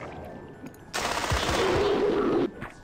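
Gunfire in the video game Battle Isle: a single sustained rattling burst of about a second and a half, loud and close, following a quieter stretch, with no talk over it.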